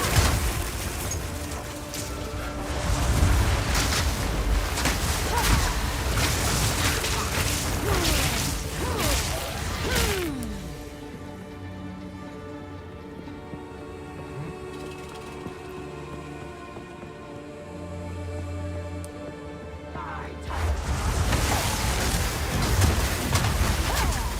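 Remote explosion devices going off in Path of Exile 2 during desert combat: repeated booming blasts and crashing debris, then a quieter stretch of humming tones before another loud burst of explosions.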